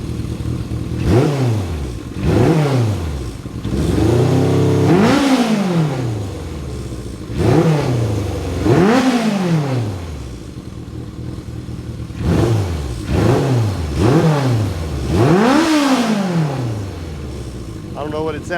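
A 1978 Kawasaki KZ650 motorcycle engine is revved repeatedly, each blip rising in pitch and falling back to a rough idle, loud and close, with a few quicker rev bursts in between.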